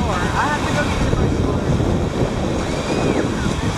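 Ocean surf at a Florida beach rushes continuously, close and loud, with heavy wind buffeting the microphone and faint voices in the background.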